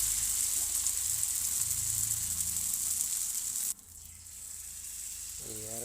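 Maida-batter-coated wheat flour snack frying in oil: a steady, bright sizzle that holds strongly, then drops quieter partway through and carries on softly.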